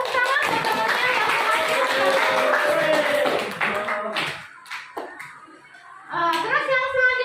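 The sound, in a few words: applause for a classmate in class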